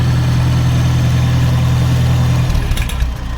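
An antique stationary engine runs loud and steady with a low, even drone and a fast chugging beat, like a little sewing machine, then shifts its tone near the end, at an antique tractor and engine show.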